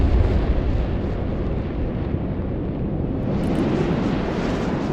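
Ballistic missile explosions in the modern warfare strategy game Broken Arrow: a sustained, heavy rumbling roar of blasts that fills the whole stretch, loud and broad with no voices over it.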